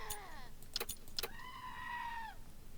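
A goat-themed car horn from the video game Wasteland 3 gives a single wavering, bleat-like honk of about a second, preceded by a few short clicks and a brief falling tone.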